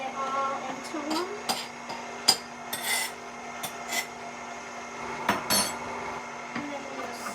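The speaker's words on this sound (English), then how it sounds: "Scooping it over so I can get it all into one." A spoon scoops buttercream frosting in a bowl, giving soft scraping rubs and scattered light clinks against the bowl at an uneven pace, close by.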